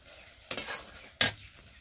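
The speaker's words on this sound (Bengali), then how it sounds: "মশলাটা ভালো করে কষিয়ে নেব" Spice paste with tomato being fried and stirred in a pan for a mutton curry, with two distinct bursts of scraping and sizzle over a faint, steady background hiss.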